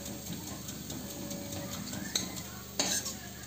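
Potatoes and neem leaves frying in a kadhai, stirred slowly, giving a quiet steady sizzle with soft scrapes and a couple of sharper metal clinks near the end, close by and with no voices.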